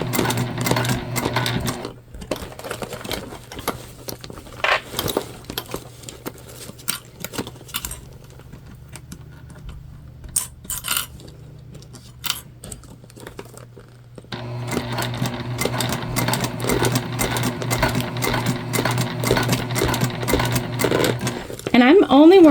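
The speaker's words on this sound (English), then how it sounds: "my vinyl's making a fabulous sound as it glides across my sewing machine here" A sewing machine stitches vinyl for a crossbody bag in fast, rhythmic mechanical bursts close up, stopping briefly midway before running again.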